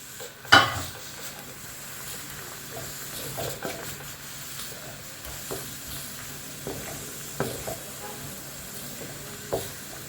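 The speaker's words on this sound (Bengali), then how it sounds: "পনিরগুলো আমি দিয়ে দিলাম।" Paneer stirred into simmering gravy in a pan, a soft steady sizzle and bubbling with intermittent scraping and clinking of a spoon against the pan, close by.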